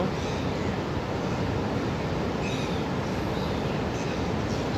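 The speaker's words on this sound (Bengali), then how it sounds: "পানির স্রোতের শব্দ" A river current in France rushes steadily and loudly nearby, a constant broadband wash with no breaks and no talking.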